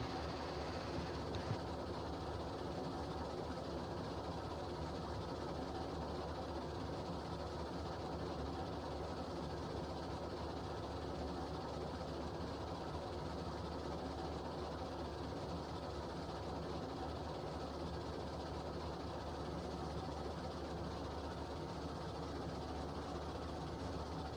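Two steam locomotives roll along the rails toward an iron mine in the RailRoads Online video game, a steady, dense rumble with continuous chugging and rail clatter that stays even and unbroken throughout.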